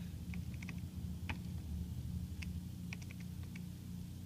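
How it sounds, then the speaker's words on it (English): Quick taps on a calculator keypad, a series of light clicky presses in irregular bursts, close but faint over a low background hum. "Calculator seems to be working again. So I can type this."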